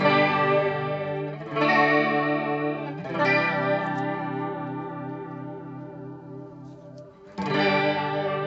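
Electric guitar chords run through a chorus/vibrato pedal with rate and depth turned up, giving a wobbling, shimmering modulation; four strums ring out and sustain, moderately loud and alone.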